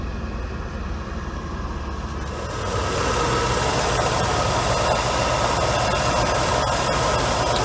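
A Mercedes W124 engine idles steadily at a smog check station ahead of a California emissions test, a continuous close rumble with broadband hiss that thickens and grows slightly louder partway through.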